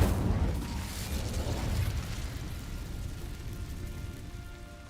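Incendio fire spell cast in Hogwarts Legacy, a roaring burst of flame that starts loud and rumbling, then settles into a steady crackling hiss for several seconds, with no voices.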